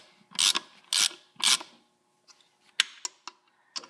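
A ratchet snugs lug nuts on a garden tractor wheel: three quick bursts of rapid clicking, then scattered lighter ticks and clicks, close and fairly quiet.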